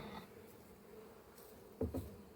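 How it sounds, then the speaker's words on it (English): Honey bees crawl around the floor at an apiary hive, with a faint low buzzing throughout and a couple of brief, louder buzzes near the end as bees fly close by. "Whole load of bees on the floor there, they'll fly back in eventually"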